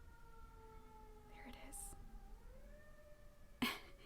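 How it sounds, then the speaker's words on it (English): Emergency sirens wail outside, distant and faint, long steady tones drifting slowly in pitch beneath a soft speaking voice, with a brief sharp noise near the end. "I heard the sirens a little bit ago and I ignored them and now the sirens are coming back again"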